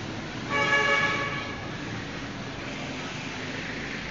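An LRT train horn sounds briefly at Anonas station over the steady rumble of the rail line, followed by continuous low train and platform noise.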